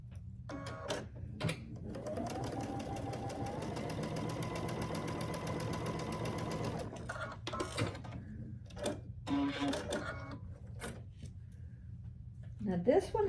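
A sewing machine runs in a steady buzzing stretch as quilt block pieces are stitched together for a Grinch quilt block, bracketed by short clicks and fabric handling, with a voice talking briefly before and after.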